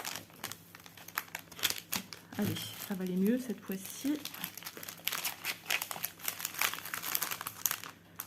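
Close crinkling and rustling of adhesive tape being handled while unboxing cross-stitch supplies, with sticky crackles and tearing bursts, while someone speaks softly in French over it.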